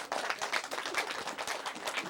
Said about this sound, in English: everybody give our naughty big bad wolf a great big round of applause